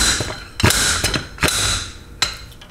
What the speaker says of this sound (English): I prefer to use a simple slide hammer with a hook on the end